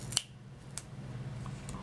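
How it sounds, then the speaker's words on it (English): Shears cut a piece of cardstock in half for a handmade shaker card, giving a few crisp, separate snips over a faint, steady room hum. "So we'll take these scissors, these shears, and we're just going to cut it right in half"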